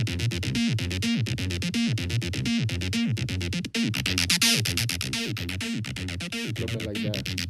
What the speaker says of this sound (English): 303 sound, 303 noises.